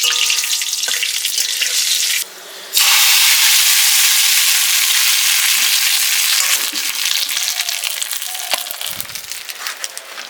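Cumin seeds, dried red chilies and bay leaves sizzling in hot oil for tempering, a loud, dense, continuous crackle close by, with a brief dip before the hiss surges back.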